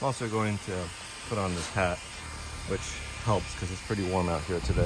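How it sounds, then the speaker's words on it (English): A constant whirring, hissing hum of small electric cooling fans running close by, under a person talking throughout. "I've got these little fans here that keep me a little bit cooler"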